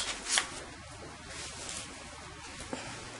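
Scissors slice through fabric for a men's plus-size raglan shirt sleeve, a soft continuous papery shearing with faint snips, close and quiet.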